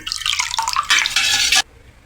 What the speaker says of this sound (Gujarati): હવે આપણે તેને હલાવી લઈશું। ખાંડને ઓગાળીશું અને મીઠું મિક્સ થઈ જાય।